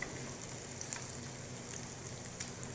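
Garlic and chili pepper fry in oil for spaghetti arrabbiata, a steady, fine crackling sizzle with tiny pops throughout, close but fairly quiet.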